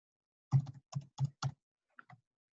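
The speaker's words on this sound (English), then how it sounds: "I'm gonna retype it again just in case" Four quick close keystrokes on a computer keyboard followed by a couple of fainter taps, crisp and isolated in a quiet room.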